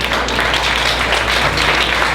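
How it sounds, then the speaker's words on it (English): A talent show audience in Saratoga gives a dense, steady wash of applause for a performer named Daisy, loud and continuous with no talk over it. "a big round of applause for Daisy"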